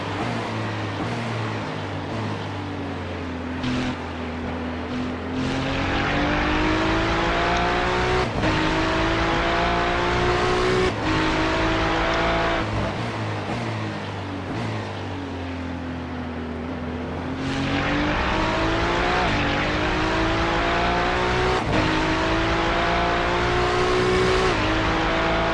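A Mustang race car engine in iRacing at Daytona howls through repeated upshifts and rising revs, loud and close, with the pitch climbing and dropping over the run.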